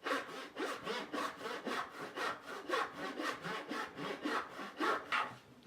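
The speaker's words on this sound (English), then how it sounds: "I'm ripping off a 1/8 inch strip that's going to be used as the wedge. Now I'm ripping it to width." A handsaw rips a thin 1/8 inch wood strip to width for a sanding-block wedge, with steady rhythmic rasping strokes, about two per second, close and clear with no talk.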